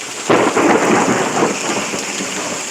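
A sudden, loud crack of thunder booms close by during a thunderstorm in Pittsburg, Kansas, and rolls into a long rumble, with steady rain pattering underneath.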